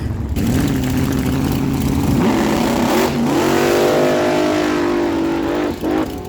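Blown alcohol dragster screaming down a drag strip at a fall drag racing event, a loud sustained engine roar whose pitch climbs steadily through the run, close and continuous for several seconds.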